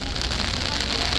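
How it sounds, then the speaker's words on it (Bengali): Heavy rain falls near Nageshwar Jyotirlinga temple in Dwarka, Gujarat, a dense, loud, steady hiss of downpour throughout with no break. "যা বৃষ্টি পড়ছে,"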